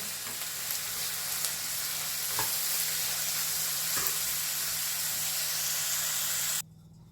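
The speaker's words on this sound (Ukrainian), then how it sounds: "Все гарно перемішую і хай обсмажується" Continuous hissing sizzle of potatoes frying in a hot pan, with a couple of faint clicks, cutting off abruptly near the end.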